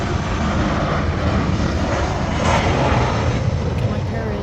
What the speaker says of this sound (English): Oh, and then we have the plane. Southwest Airline 7421.